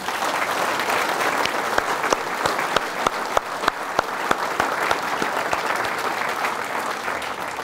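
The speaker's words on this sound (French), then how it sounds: "Je vous demande d'applaudir ces enfants." An audience at a mayor's New Year address in L'Aiguillon-la-Presqu'île claps for children, a dense, even round of applause from a hall full of people that stays steady throughout.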